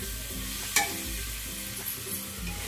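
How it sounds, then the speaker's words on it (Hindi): Spice masala frying in a pan for aloo parwal sabzi, a quiet steady sizzle with one sharp spatula scrape and a few faint stirring sounds, close and otherwise calm. "मसाले को हम अच्छे से भूने देंगे, तभी हमारी सब्जी टेस्टी बनेगी।"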